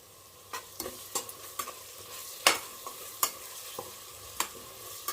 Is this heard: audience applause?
no